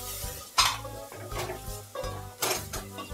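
A spoon stirring softened tomatoes with chili powder and turmeric in a pan for an eggplant fish curry, with repeated scraping and clinking strokes over a low sizzle, close up and fairly quiet, no voices.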